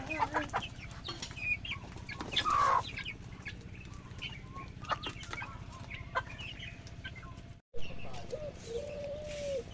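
Chickens cluck and call intermittently, close by, with a brief dropout near the end followed by another call.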